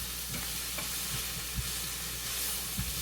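Vegetables for fried rice cook down in a pot, giving a steady broadband sizzle and hiss with a few soft stirring knocks, close and continuous with no voices.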